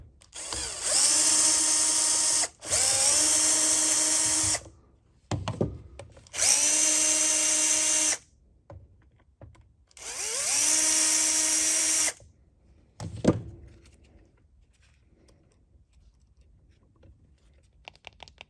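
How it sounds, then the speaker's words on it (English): Power driver whirs in three bursts of a couple of seconds each, backing out the carburetor cover screws on a Husqvarna 128CD/128LD string trimmer, with clicks and handling noises between bursts and after. "And we're just going to pull these screws off."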